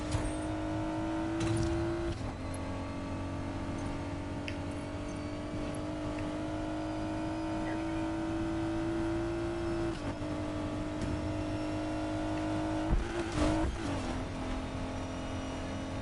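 Car engine in the racing game Need for Speed Payback, a steady droning whine held at high speed, with a brief burst of rougher noise near the end.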